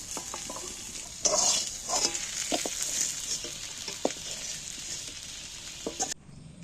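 Potatoes stirred and fried in hot oil in a pan, a steady bright sizzle broken by sharp spatula scrapes and clacks against the metal, close and fairly loud, with no voices.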